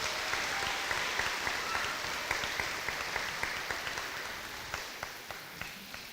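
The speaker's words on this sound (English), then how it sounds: "could we give another round of applause to my kinders and the Student Council?" Crowd applause at an elementary school dedication and ribbon-cutting ceremony, dense sustained clapping from many hands that tapers slightly over several seconds with no talk.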